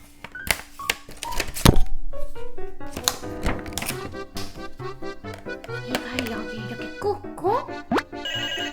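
A toy melody telephone plays bright electronic beeps, ringing tones and short melodies in quick bursts, with clicks and button presses between them.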